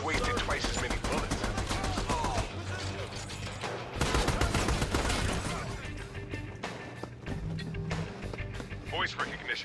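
Rapid bursts of gunfire crackle through an Army of Two cutscene, dense and continuous, with voices talking over the shooting throughout.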